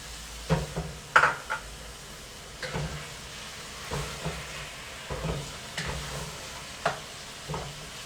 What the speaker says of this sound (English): instead of like sitting there and browning each piece separately, you can just brown it right in